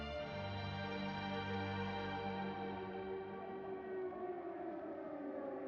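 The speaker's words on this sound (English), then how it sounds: "the sirens wail over Berlin" Air raid sirens wail over Berlin in one sustained, slightly distorted tone that slowly falls in pitch, steady and echoing, with no voices.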